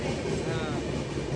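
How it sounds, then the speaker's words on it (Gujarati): A train passes through a station in Surat, a dense, steady rumble with a rhythmic low clatter filling the whole short stretch. "અત્યારે ટ્રેન જાય છે"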